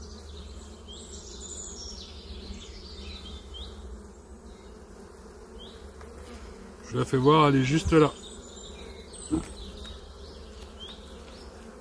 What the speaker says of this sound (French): Sous les abeilles.